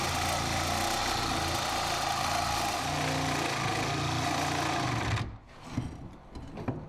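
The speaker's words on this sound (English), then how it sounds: "And cutting off the damaged exhaust while we're at it." Power tool cutting the damaged exhaust off an abandoned police car recovered from a swamp, a loud continuous buzzing drone for about five seconds that then stops abruptly, leaving faint clatter.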